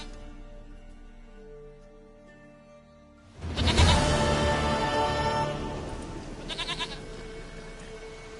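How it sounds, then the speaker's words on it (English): A goat in The Witcher 3 lets out a loud, drawn-out bleat after a quiet stretch, fading into softer wavering cries. "Goat of mine, dearest, sweetest goat."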